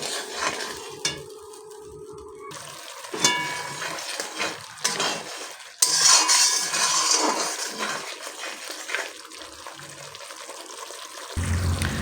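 A spice paste of poppy seed and mustard for a pabda fish dish is stirred and sautéed in oil, with intermittent soft sizzling, scraping of a spoon in the pot and occasional clinks, near and moderately loud.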